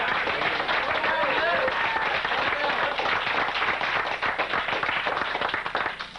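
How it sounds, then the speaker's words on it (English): An audience applauds a first-month salesperson at a corporate sales awards event, with steady, loud clapping that fills the room and continues throughout, tapering slightly near the end. "I think that deserves an extra round of applause."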